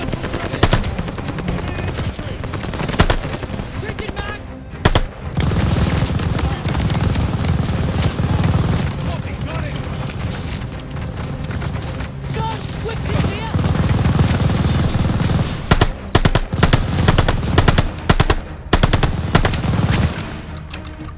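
Machine gun fire in a Call of Duty battle, loud sustained bursts and rattling volleys layered with explosions and battlefield noise, with shouted voices under the shooting.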